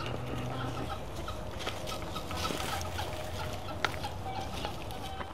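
Soft, low chattering calls from guinea fowl nearby, scattered quiet clucks over faint background ambience.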